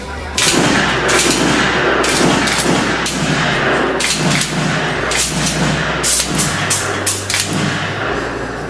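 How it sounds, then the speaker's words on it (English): Repeated gunshots ring out in irregular bursts over a steady low rumble, loud and sharp, like several shooters firing at a range aboard the USS Green Bay. "go ahead and practice and shoot some targets up here"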